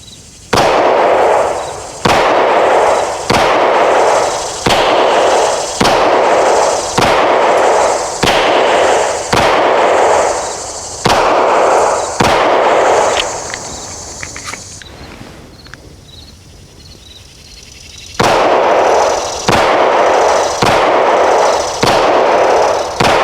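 Hi-Point YC9 9mm pistol, fresh out of the box, fired in a steady string of loud, sharp shots about one per second. After a short pause, more shots follow outdoors with faint insect chirping behind.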